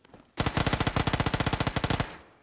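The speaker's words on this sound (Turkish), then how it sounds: "Uzi ile 300 mermi harcamam lazım" Uzi submachine gun firing in the shooter game PUBG, one long sustained burst of rapid, evenly spaced loud shots lasting under two seconds, then stopping abruptly.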